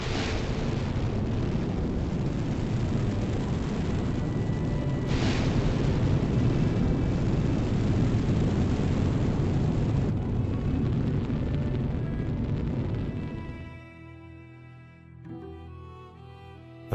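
Space Shuttle launch, a loud sustained roaring rumble that holds for about thirteen seconds, then drops away to quieter, tonal residual sound.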